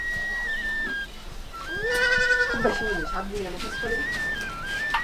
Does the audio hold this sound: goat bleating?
yes